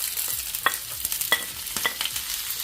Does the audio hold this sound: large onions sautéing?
yes